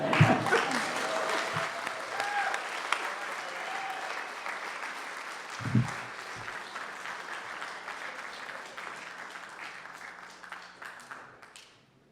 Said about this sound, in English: All right, another round of applause.